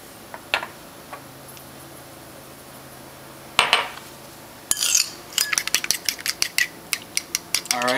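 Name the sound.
whisking eggs with sour cream using a fork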